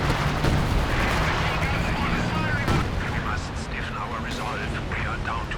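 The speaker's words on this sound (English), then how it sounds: "All the meanwhile we've got Sector artillery going down for Alastor." Sector artillery barrage in a Company of Heroes 2 online 2v2 match: continuous rumbling blasts and distant booming impacts layered into a dense battle din, with a commentator talking over it throughout.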